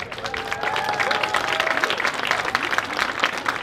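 A crowd at a high school marching band event applauds senior band members with sustained, dense clapping and some cheering, loud and continuous throughout.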